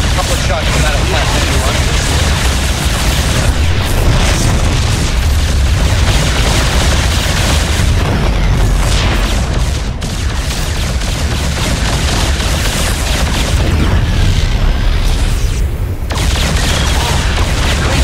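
Heavy cannon blasts from Battlecruisers in StarCraft II, loud repeated booms and bursts over a continuous dense wash of battle noise, with game voices speaking.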